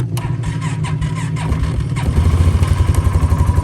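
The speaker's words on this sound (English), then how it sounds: "I'm gonna let this warm up, the four-wheeler, for a little while." Four-wheeler ATV engine catches and settles into a close, loud, throbbing idle with a steady rhythmic pulse, no voices over it.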